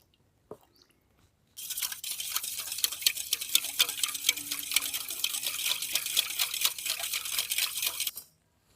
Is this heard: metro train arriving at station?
no